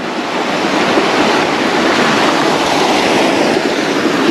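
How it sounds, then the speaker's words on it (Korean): Steady, dense rushing water from a mountain valley stream near a rural hanok house in Pocheon, flowing continuously and loudly with no pauses and no voices. "도보 10분 포천 계곡이 철철철 흘러서 내려오고 있습니다"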